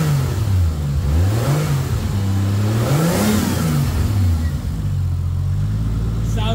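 A turbocharged Pulsar car engine with a blow-off valve and a repaired exhaust leak revs loudly and close, its pitch climbing and falling through several throttle blips before settling into a steady idle.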